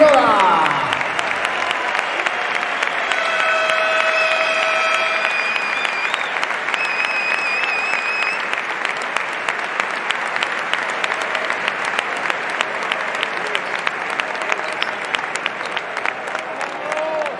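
A large crowd gives sustained applause in tribute to Javier Imbroda, former Spanish national basketball coach. The clapping is dense and even, continuing for well over fifteen seconds, with a brief vocal tone at the start.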